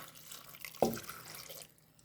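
A brief splash of water and milk poured into a pot, with a short bright impact followed by a faint trickle, quiet and close.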